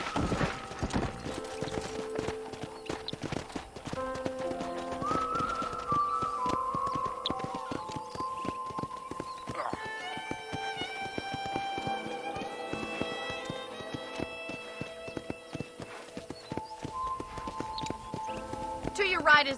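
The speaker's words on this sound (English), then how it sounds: "let's see if you can still ride a horse" Horse hooves clip-clop in a steady walking rhythm on a ranch in Red Dead Redemption, moderately close, with game music and people talking over them.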